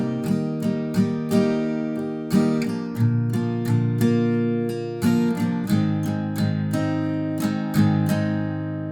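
An acoustic guitar strums chords for a song in a steady rhythmic pattern, bright down and up strokes ringing out clearly, played alone and close.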